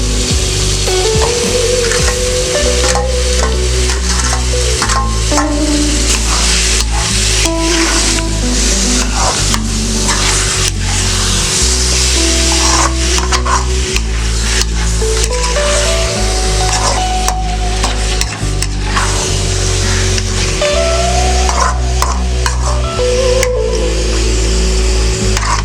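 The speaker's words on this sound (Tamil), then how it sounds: "அரைச்சி வச்ச சிக்கன் ஆட் பண்ண போறோம்." Chicken coated in ground masala paste sizzles steadily in a pan as it is stirred, with wooden scraping strokes recurring throughout under a continuous loud frying hiss for chicken curry; no one speaks.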